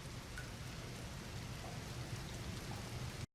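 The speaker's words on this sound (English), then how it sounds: "It's raining." Rain falling in an anime scene, a dense, even hiss of steady rainfall at moderate level that cuts off abruptly at the end.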